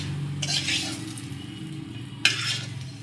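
Garlic and chili fry in oil with a soft, continuous sizzle, broken by two short bursts of stirring and a clink of a utensil against the pan, close by.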